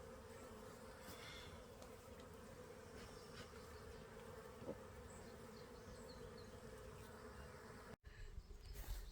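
Bees swarming at a mountain bee yard hive produce a dense, steady buzzing drone that fills the whole stretch, close and continuous, with a brief dropout near the end.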